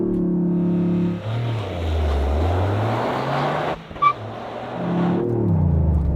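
A Toyota sports car, GR Yaris or Supra, holds just over 4,000 RPM and then launches in a drag run, the engine roaring and climbing through the gears with a brief shift gap, loud from inside.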